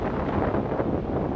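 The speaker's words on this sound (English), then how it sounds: "this wind has been howling" Strong wind gusts outdoors at a lake in Algonquin during a wind storm, a dense low roar buffeting the microphone, loud and continuous without speech.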